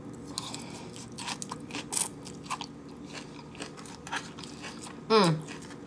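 Close, crisp crunching and biting of a crunchy salad with croutons, irregular bites with soft scraping between, one louder crunch near the end.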